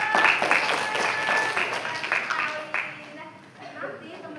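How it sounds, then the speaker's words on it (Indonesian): Audience applause at a Gen Z health-careers outreach session for tenth-grade students, a dense, steady clapping wash that fades toward the end. "kasih tepuk tangan dulu dong"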